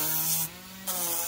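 A drum sander shapes wooden terrain for a farm toy display, its steady motor whine joined by a loud rasping grind that drops away briefly as the wood is lifted, then returns.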